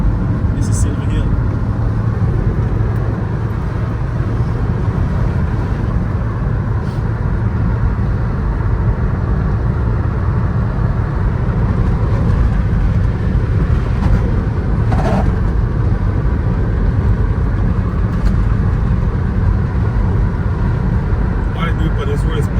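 A car drives along a hilly road near Silver Hill on the way to Linden in Guyana, with a loud, steady engine and road-noise rumble throughout and voices talking over it.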